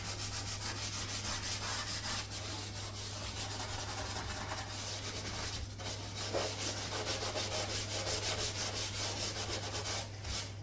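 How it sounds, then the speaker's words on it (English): Burnt food being scrubbed off the inside of an oven, a continuous close, rough rubbing and scraping in steady back-and-forth strokes with a constant low hum underneath and no talking. "we're still having a lot of burnt food. So, I'm going to scrub a little bit with this."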